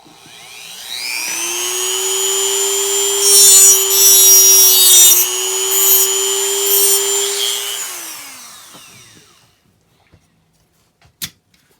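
A small rotary tool cuts off a wire stub on a scratchbuilt model with a steady, high, whining buzz that rises, holds for several seconds and then winds down. A couple of faint clicks follow in near silence.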